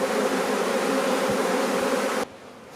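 A swarm of honeybees buzzes loud and close in a dense, continuous hum that drops abruptly to a fainter drone near the end.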